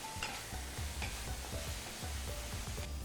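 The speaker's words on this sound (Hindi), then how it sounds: "हरी मिर्च डाल लेते हैं 1 छोटा चम्मच। अब भुनाई करते हैं अच्छे से।" Masala with green chillies is stir-fried in a pan, with a low steady sizzle under rhythmic scraping and stirring strokes that repeat about twice per second.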